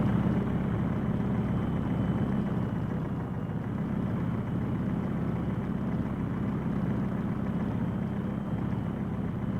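A model Dakar truck runs with an engine sound taken from a Kenworth tractor trailer, a steady, even idling drone that holds constant throughout, close and moderately loud with no talking.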